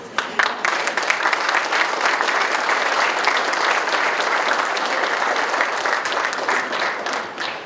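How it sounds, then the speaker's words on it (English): A crowd at a high school academic signing day gives students a sustained, dense round of applause, even and full throughout before tapering slightly at the end. "the rest of us would like to give you a round of applause"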